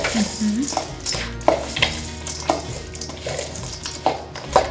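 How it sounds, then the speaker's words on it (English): Bhel puri is tossed with chutneys in a bowl, making repeated rustling, scraping mixing strokes in a loose rhythm with light clinks of utensil on dish, heard up close. "And then you mix it. This is how you toss it around."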